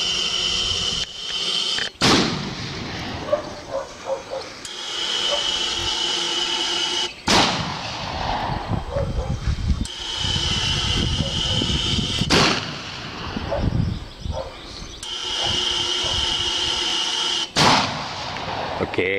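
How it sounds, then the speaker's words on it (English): Zon EL08 electronic industrial bird scarer firing a sequence of loud, sharp blasts, about four major bursts spaced a few seconds apart with rough noisy sustain between them, close and very loud. "pressing the number 1 channel will initiate a blast of 4 times"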